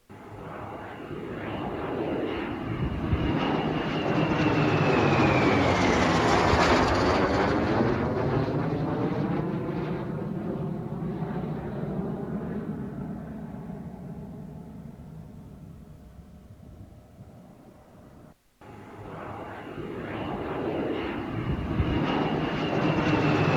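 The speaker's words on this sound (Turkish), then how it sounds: "insansız savaş uçağımız Kızıl Elma öyle güzel bir sorti yapıyor" The Bayraktar Kızılelma unmanned fighter jet roars overhead near Istanbul's Atatürk Airport, its engine swelling to a loud peak and then slowly fading as it passes, with the pitch sweeping downward.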